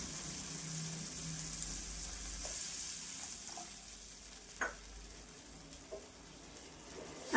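Water is poured into a pan of sizzling sour fish curry made with puti fish and raw mango; a steady, fairly quiet frying hiss fades as it goes in, with a few faint stirring clinks.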